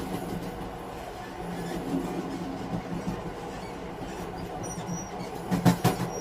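A passenger train runs at night with a continuous low rumble and rhythmic wheel clatter, rising into a brief burst of louder metallic clanking near the end.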